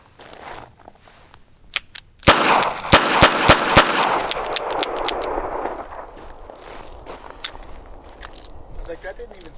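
Sharp shots from a Charter Arms Pit Bull .380 ACP revolver at an outdoor range, several loud cracks fired in a quick uneven string, followed by clicks and quieter handling noise as someone speaks.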